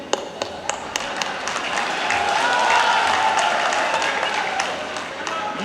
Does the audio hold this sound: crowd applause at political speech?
yes